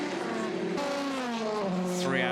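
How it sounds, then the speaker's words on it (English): A Le Mans prototype race car, car number 7, passes on the circuit during the 2014 24 Hours of Le Mans, loud with a falling engine whine that shifts pitch as it goes by, under steady background roar. "Car number 7 going past us and on his way"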